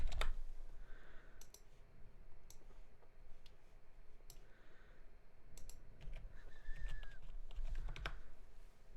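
Clicky typing on a computer keyboard during a livestream setup, quick irregular keystrokes in short bursts close by, with no talking.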